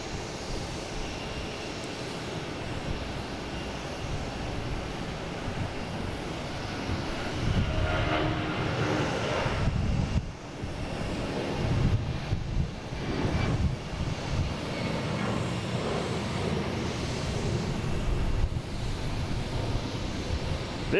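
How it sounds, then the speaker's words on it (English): A Delta Boeing 757 taking off at Boston Logan airport makes a broad, steady roar that swells and surges, heard from a distance over a long stretch with no clear voices. "next taking off is a Delta heading to LAX,"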